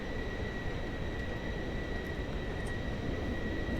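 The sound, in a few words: Pilatus PC-24 jet taxiing in Microsoft Flight Simulator video game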